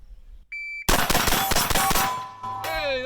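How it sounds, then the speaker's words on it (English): An AR-10 rifle chambered in .308 fires a fast burst of sharp, closely spaced shots, loud and near, after a brief beep and with a ringing metallic ping at the end. "It is an AR-10. It's like shooting a 308 really fucking fast."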